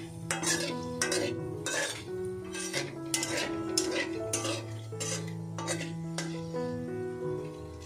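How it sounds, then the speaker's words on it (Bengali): A spoon scrapes and clinks against a pan in repeated rhythmic strokes as bay leaf and dried red chillies are stirred, with a light sizzle underneath and a steady tonal hum in the background. "তেজপাতাটা আগে দাও, তারপর শুকনো লঙ্কাগুলো দেবে, এগুলো নাড়িয়ে দেওয়া ভালো করে"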